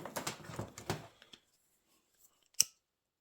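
A single crisp snip of a cord being cut off near a chainsaw, sharp and close in a quiet room, following a few faint handling sounds.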